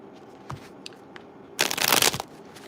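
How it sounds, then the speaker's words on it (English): Tarot cards are shuffled by hand, with a few light taps and flicks first and then a brief, dense riffle of card edges up close, with no talking. "Let me shuffle these up a little bit."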